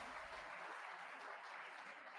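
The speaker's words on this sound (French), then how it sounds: "Ils applaudissent Olivier Faure." A congress audience applauds steadily at a French left-wing political gathering, a dense, even wash of clapping hands that carries on without pause and with no speech over it.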